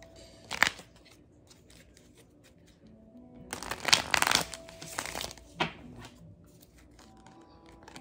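A deck of tarot cards is shuffled up close in a few short, crisp riffling bursts: a quick one near the start, a longer flurry in the middle and a brief one after, with quiet pauses between.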